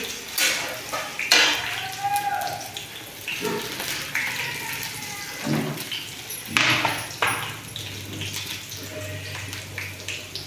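Tomatoes and salt are stirred into a frying pan of masala for bhindi masala, giving a soft, ongoing scrape and a gentle sizzle with occasional sharp clinks of a utensil against the pan.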